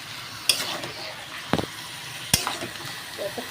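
Mutton and potatoes being stirred and fried together in a pan for a thin Bengali goat curry; a quiet sizzle runs throughout, broken by three sharp spoon scrapes.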